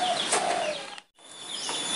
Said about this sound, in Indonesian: Burung tekukur, tapi dia datangnya hinggapnya di sela-sela lagi